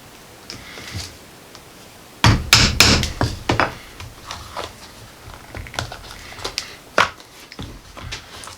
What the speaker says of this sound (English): I'm going to do a rivet here, right across from that first one